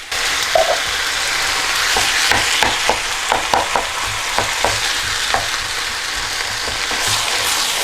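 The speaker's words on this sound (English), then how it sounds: "we want to be going in with our tin tomatoes" Tinned tomatoes go into a sizzling chili con carne pan, giving a loud, continuous frying hiss with a few soft stirring scrapes and wet thuds near the middle.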